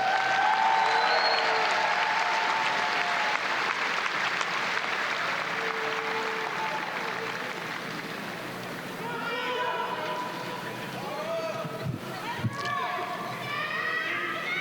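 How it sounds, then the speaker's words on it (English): Steady audience applause fills a graduation ceremony for the band, choir and ROTC group, a dense, sustained wash of clapping from a large crowd that gradually thins, with a few scattered voices near the end. "let's give the band and the choir and the ROTC group a big round of applause"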